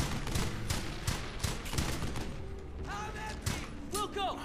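Rapid bursts of rifle and machine-gun fire in the World War II shooter Brothers in Arms: Hell's Highway crack repeatedly in close succession, with in-game voices calling out between shots.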